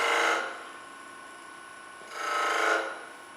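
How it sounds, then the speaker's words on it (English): Skew chisel cutting V-grooves into a spinning wood cylinder on a lathe during a woodturning demonstration, two short scraping-hiss bursts, one at the start and another about two seconds later, with a quieter continuous hum between them. "a cylinder, we're gonna come in with our V-cuts"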